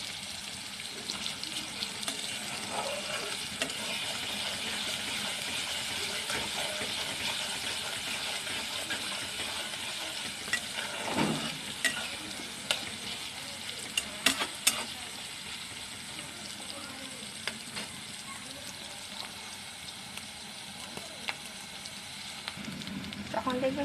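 Thickly sliced onions soften in a pan for a Bengali-style chicken roast, giving a soft, steady sizzle with occasional clicks and scrapes from stirring.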